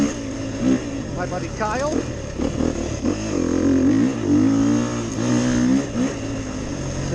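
A Beta 350 RR Race Edition off-road motorcycle engine revs up and down in rising and falling surges, close and loud, while someone talks over it.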